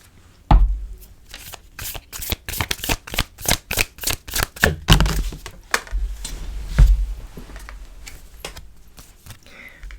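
An oracle card deck is shuffled by hand on a table, giving a rapid run of close, crisp riffling flaps followed by a few slower thumps and slides as the cards are moved.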